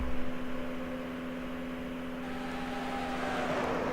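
PASS Series race cars roar around Auto Club Speedway at the start of a 2007 race: a steady engine drone with a sustained tonal whine that swells louder as the pack draws closer.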